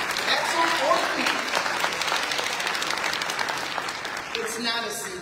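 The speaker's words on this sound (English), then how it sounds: "Give yourselves applause." Convention audience at a general session applauding together: dense, steady clapping from a large crowd fills the whole stretch, with speech running under and through it, easing slightly near the end.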